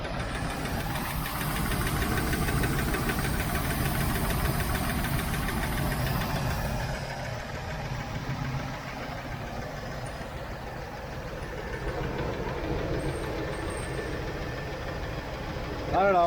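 A 1978 Chevrolet El Camino SS engine with a lifter tick runs steadily close by, a continuous mechanical clatter over the motor's drone that eases a little partway through.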